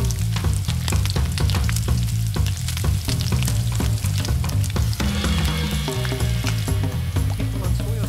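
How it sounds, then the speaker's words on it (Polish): Seafood stir-fries in a very hot wok, a loud continuous sizzle with rapid crackling and repeated tossing and stirring clatter, no voices over it. "Bardzo ważne jest, aby smażyć owoce morza krótko w wysokiej temperaturze"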